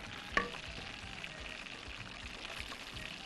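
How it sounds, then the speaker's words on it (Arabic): Onion and celery sautéing in butter in a pan, a soft, steady sizzle with one brief clink near the start. "وهقوم مشوحاهم مع البصل والكرفس ومعلقتين الزبده بالشكل ده اهو"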